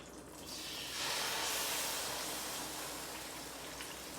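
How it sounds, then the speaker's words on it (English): A steady wet hiss of sauce pouring and sizzling into a hot pan for posole, continuous and fairly close, with no voices. "And now we will pour our sauce in here."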